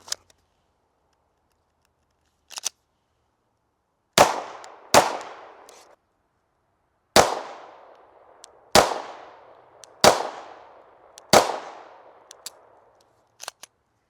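A .45 pistol fires about eight sharp, loud shots at irregular spacing, each with a brief ringing decay, and the spent gun is noted as sticky and gunking up but still cycling.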